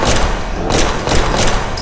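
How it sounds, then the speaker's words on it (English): A heavy .45 caliber pistol in an audio drama firing rapidly, loud close thuds and cracks packed together in a dense burst over a rumbling background, with no talk. "An entire magazine cycled through Jeff's pistol in a matter of seconds"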